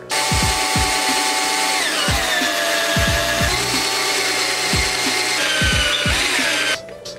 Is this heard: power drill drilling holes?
yes